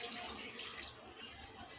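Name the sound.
water being poured into the curry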